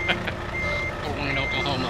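A truck in a trucking video game backing up to hitch a trailer, its reversing beeper pulsing steadily over a constant engine drone, with a voice talking at the start.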